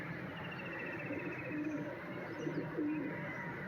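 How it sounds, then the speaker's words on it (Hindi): Pigeons perched on a net during a pigeon-flying tournament give soft, low cooing calls in short bursts over a steady background hiss, with no talking. "4 कबूतर इनके आगे जाल पर बैठ गए हैं।"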